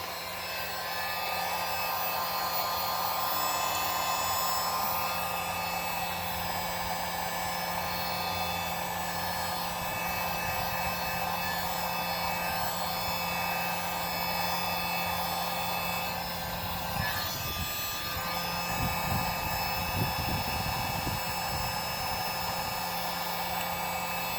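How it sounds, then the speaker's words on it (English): A heat gun set to low blows a steady, loud whooshing hum as it warms the glued trim switch on a 1994 Trophy 2002 walkaround boat, holding constant throughout with no talking. "I'm going to take and put the heat gun right here on low and just heat this up a little bit."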